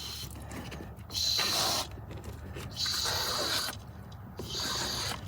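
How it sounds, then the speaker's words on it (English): Foam cleaner sprays through a hose into a Tesla cabin air vent in three hissing bursts, each about a second long with gaps between, close and moderately loud. "I'm gonna kind of just get it all the way in there and just start spraying."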